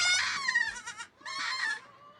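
Black goats on a large goat farm in Hwasun, South Jeonnam, bleat in two drawn-out, wavering calls close by, separated by a short pause.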